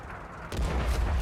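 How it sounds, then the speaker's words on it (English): Artillery fire in the World of Tanks console game: one deep, heavy boom lands partway through after a quiet rumble, then rolls on as a low, sustained blast. "here comes the artillery again"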